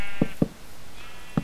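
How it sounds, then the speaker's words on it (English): Sheep bleat in Minecraft, the video game: three short, sharp bleats, two close together and one a moment later, standing out clearly above a faint high background tone. "There's sheep, so I can get some."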